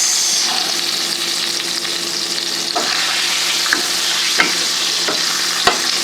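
Garlic sizzles steadily in hot oil for a chili base, with a constant frying hiss broken by a few sharp clicks and scrapes as a utensil stirs the pan.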